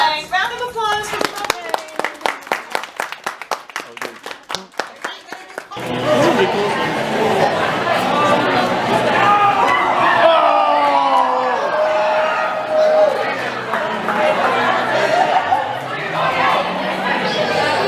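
An audience at an anime convention game show applauding, first a short run of separate claps, then dense applause mixed with crowd chatter, cheering and voices.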